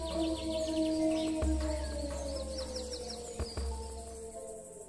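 Birds chirp and twitter in quick, high bursts over a steady low hum and background tones, fairly faint with no voices.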